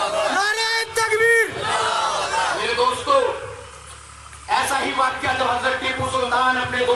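A large crowd at a grand jalsa in Karnataka chants Allahu Akbar in loud, surging unison shouts answering the Nara-e-Takbir call, with a brief lull before the roar swells again.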